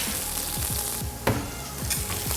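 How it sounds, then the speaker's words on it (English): Onions, tomatoes and sweet peas sautéing in a pan, a steady close sizzle with a stirring clatter partway through and soft scraping rhythm underneath. "We just want to saute this real quickly to get the aromas from the onions, the tomatoes"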